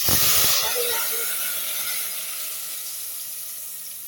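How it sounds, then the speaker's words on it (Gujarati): A sudden loud hiss and sizzle as water hits a hot oil tempering with chutney, settling into a steady steaming fizz that slowly fades. "પાણી નાખી દઈએ"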